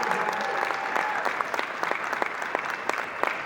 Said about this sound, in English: make some noise for Mr. Brad Lea, please